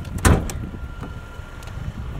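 Hood release on a 2024 Toyota Tacoma TRD Sport with a 2.4 turbo: a single sharp metallic pop near the start, then a fainter clunk about a second later, close by against quiet outdoor background.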